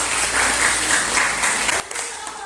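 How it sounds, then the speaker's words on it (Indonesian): A classroom of students applauds a good answer, dense clapping that holds steady and then thins out abruptly near the end. "Tepuk tangan di sebelah kanan."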